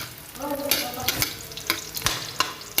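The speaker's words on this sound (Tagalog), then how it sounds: "Gisa muna tayong bawang mga idol." Garlic sautéing in a pan for adobo, a steady close sizzle with repeated sharp scrapes and stirring knocks, no voices.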